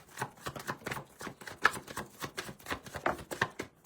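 A dense run of fast, clattering tarot card riffles, one shuffle after another without pause, close and fairly loud.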